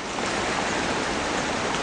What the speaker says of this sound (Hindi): ये देखिए झरना